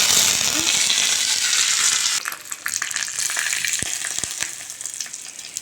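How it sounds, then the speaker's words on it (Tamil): Mustard seeds spluttering in a ladle of hot oil while tempering chutney, a dense steady sizzle that drops away halfway through, leaving scattered crackles and a few sharp pops. "ஒரு கரண்டி வச்சு எண்ணெய் ஊற்றிட்டு அதில் கடுகு போட்டு கடுகு பொரிஞ்சதும்"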